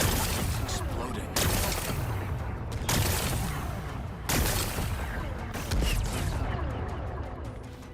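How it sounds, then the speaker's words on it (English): Rocks being blasted apart in the video game Horizon Forbidden West, heard as a series of loud, dense explosive bursts with crashing debris that restart every second or two over continuous game noise. "It's exploding."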